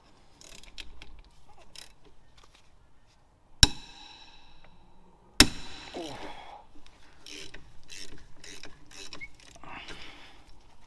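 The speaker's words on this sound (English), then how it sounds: "Next up, I'm going to take the caliper off." Metallic clicks and ratcheting come from removing a brake caliper with a ratchet, with two sharp loud clanks among lighter mechanical rattles, heard up close with a voice in the background.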